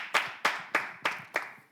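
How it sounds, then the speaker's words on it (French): Five sharp hand claps spaced evenly about a third of a second apart, fairly close, with a quick decay after each and no voices over them; a small audience giving brief encouragement before a performer takes the stage. "Est-ce qu'on peut l'encourager avec quelques applaudissements rapidement?"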